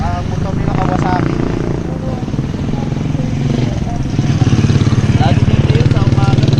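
Kawasaki motorcycle passing along a rural path, its engine droning and growing louder toward the end, heard beneath people talking nearby.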